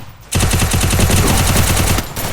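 A loud, close burst of rapid automatic gunfire from the video game Free Fire, an even stream of shots lasting nearly two seconds before cutting off.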